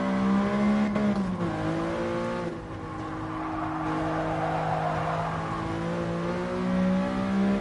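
A big V12 engine in a Mercedes Black Series hums steadily and smoothly on the Nürburgring, its tone dipping and rising with throttle, heard from inside the car at moderate volume.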